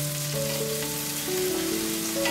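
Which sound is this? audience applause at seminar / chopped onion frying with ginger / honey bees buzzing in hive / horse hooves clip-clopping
chopped onion frying with ginger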